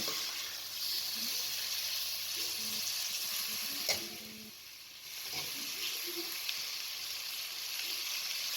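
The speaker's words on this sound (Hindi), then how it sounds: "अब इसके अंदर टमाटर को शामिल कर दें और तमाम चीज़ों को फिर से मिक्स कर लें।" Tomatoes and spices frying for dhaba-style bhindi keema (okra with minced meat), a soft, steady sizzle with a brief stirring clatter midway.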